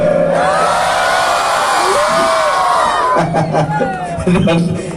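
A school anniversary audience claps and cheers loudly, a dense, sustained wash of crowd noise with whoops and shouts, swelling again near the end.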